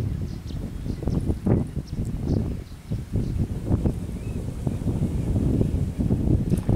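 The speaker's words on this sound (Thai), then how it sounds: "ลมแรงนะ" Strong wind blowing outdoors, a continuous loud roar buffeting the microphone with rustling and gusty surges, no voices present.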